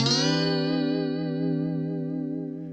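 A single sustained electric guitar note through a Fender Tone Master Pro with heavy amp distortion and a wide, shimmering stereo chorus-like effect, ringing out and slowly fading.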